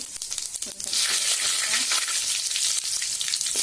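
Whole cumin seeds sizzle and crackle loudly in hot oil for a jackfruit curry, a dense close hiss that swells after the first second and holds steady without speech.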